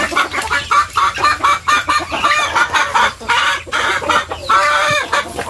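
A flock of backyard chickens clucks busily while being fed, dense overlapping close calls in quick bursts, with rooster-like cries mixed in and no talk over them.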